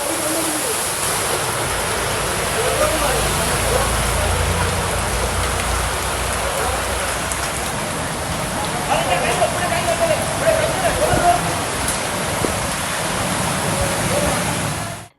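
Heavy monsoon rain pours down steadily in Bhatkal, flooding a road into a flowing stream, a dense, loud, unbroken roar of rain and rushing water throughout.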